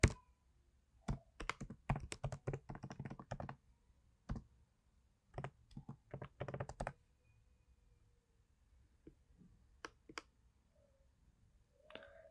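Command typed on a computer keyboard, with quick bursts of crisp key clicks separated by pauses, then a few isolated taps, quiet and close with no talking.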